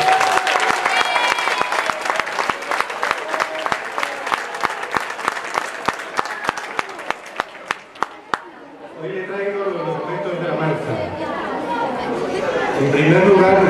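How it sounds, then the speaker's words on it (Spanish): Applause for a mayor at a peace and non-violence gathering starts as sharp, rhythmic unison clapping that thins out and stops, giving way to a murmur of crowd chatter that grows louder toward the end. "Un aplauso para usted."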